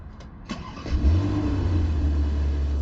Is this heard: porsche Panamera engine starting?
yes